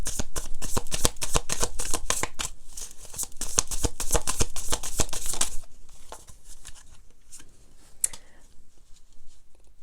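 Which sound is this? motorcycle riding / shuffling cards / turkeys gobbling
shuffling cards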